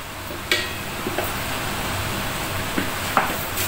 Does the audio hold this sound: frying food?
yes